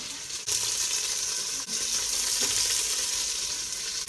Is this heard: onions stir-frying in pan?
yes